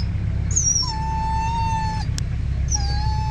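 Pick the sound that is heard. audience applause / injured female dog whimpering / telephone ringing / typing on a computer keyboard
injured female dog whimpering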